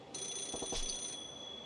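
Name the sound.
payphone ringing in the video game Yakuza 0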